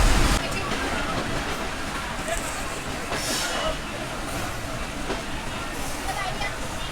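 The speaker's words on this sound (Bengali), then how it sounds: "ট্রেন এখন প্রবেশ করছে জিগরগাছা স্টেশন" A commuter train on the Mongla–Benapole line rumbles steadily into Jigargachha station with broad wind-like roar and rattle, heard from inside the moving carriage; voices murmur faintly underneath.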